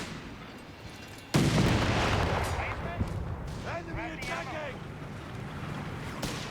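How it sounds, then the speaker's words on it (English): A howitzer fires in the strategy game Company of Heroes 3: a sudden heavy boom followed by a long rumbling decay, with a commentator talking over it. "Another howitzer here for 101st Airborne, going all in on the British artillery park there."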